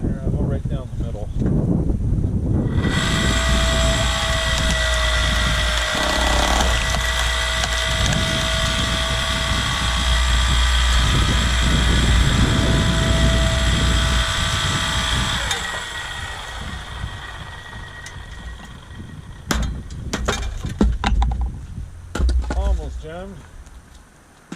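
A log splitter engine runs loud and steady while its wedge forces through a knotty maple log, with creaking, cracking wood and a strained hydraulic whine, followed by sharp snaps and clatter as the wood gives way.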